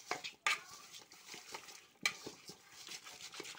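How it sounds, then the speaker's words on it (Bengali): Duck meat being mixed by hand with chilli, spices and other ingredients in a bowl, with soft wet squelches and rhythmic kneading, plus a couple of sharp clinks against the bowl, quiet and close. "এখন সমস্ত উপকরণগুলো আমরা একসঙ্গে দলা মুচড়া করে চটকা চটকি করে মাখামাখি করে ফেলব।"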